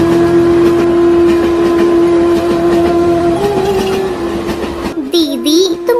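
A train runs steadily along a railway track, a loud, continuous rumble with a sustained horn-like tone throughout that drops away near the end.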